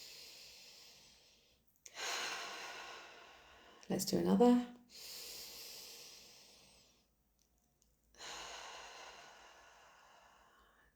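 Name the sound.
deep cleansing breaths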